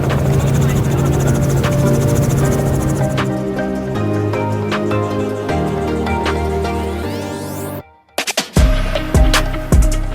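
Helicopter on a doors-off sunrise tour low over coastal water, its engine and rotor a steady loud drone that cuts off abruptly near the end, giving way to intermittent knocks and wind buffeting.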